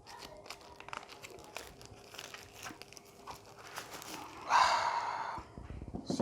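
Plastic packaging of a DJI Air 2S remote controller is opened, with soft crinkling, tearing and rustling that builds to a louder crinkly burst near the end, quiet and close with no talking.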